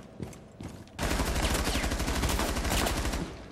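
Sustained rapid gunfire from the video game Rainbow Six Siege, loud and continuous automatic bursts preceded by a couple of single shots, with no talking over it.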